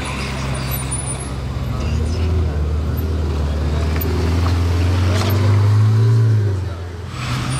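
A green McLaren 675 LT sports car drives past on the streets of Monaco, its engine swelling into a loud, deep drone as it nears and then easing away, with traffic noise and people talking in the background.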